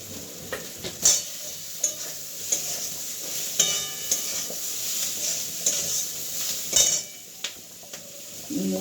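Soya chunks frying in a pan, a steady high sizzle broken by repeated clinks and scrapes of a spatula stirring, close and clear with no voices.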